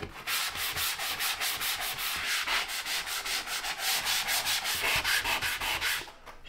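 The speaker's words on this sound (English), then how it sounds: "I'm just going to concentrate on sanding the edges to get them tapered" Steady rhythmic scraping of sandpaper across the edges of drywall joint compound, repeated back-and-forth strokes, close and continuous, with no voices.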